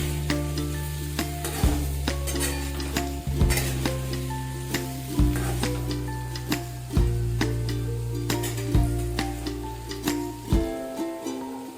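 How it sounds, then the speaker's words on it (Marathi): Potato pieces stir-fried in a pan for sabudana khichdi, steady sizzling with repeated scraping strokes of a spatula against the pan, close and clear with no talk. "परतून घ्या चांगलं।"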